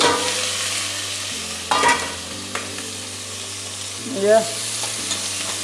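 Steady sizzle of onions and chillies frying in a pan with occasional stirring scrapes, close and continuous, over a low background hum.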